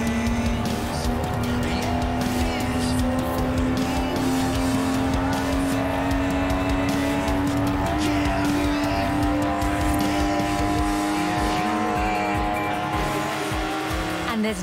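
Lotus Exige in the video game Forza Horizon 4, a steady loud engine drone at high revs with tire noise, continuous and close throughout with no speech.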